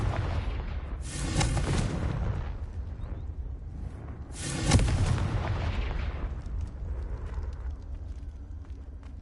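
Confringo explosive spell blasts in the video game Hogwarts Legacy: two loud booming bursts with sharp crackling attacks, spaced a few seconds apart, each rumbling off over a continuous low background roar.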